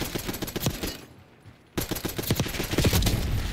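Automatic gunfire in Call of Duty: Black Ops 6, close rapid bursts of shots in dense streams, broken by a brief pause before firing resumes loudly and continuously.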